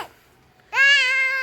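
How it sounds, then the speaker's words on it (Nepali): A cat gives a single clear, drawn-out meow after a moment of near silence, close and fairly loud. "म्याउ म्याउ बिरालो"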